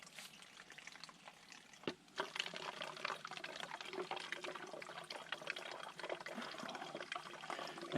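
Water runs into a 2 liter bottle at a campout, a faint, continuous trickling and gurgling that builds slightly in level and stays soft, with no voices over it.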